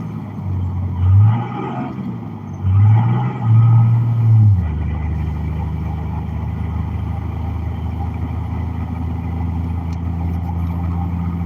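A car drives through the Colorado mountains with a steady low road and engine hum, and a few louder swells near the start before the drone settles.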